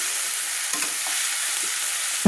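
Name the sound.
potatoes and onion stalks frying in oil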